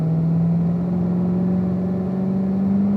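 A race car engine holds a steady, droning note on a track as it comes out of a corner, its pitch rising only slightly, sounding continuous and fairly close with no talk.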